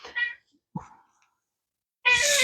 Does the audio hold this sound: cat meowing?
yes